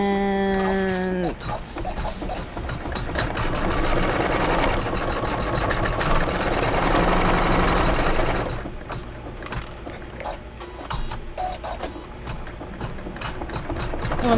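A sewing machine runs steadily at close range, stitching the blueberry pie crust block of a Kimberbell Sweet Land of Liberty quilted pillow, a continuous mechanical whir that softens and slows near the end.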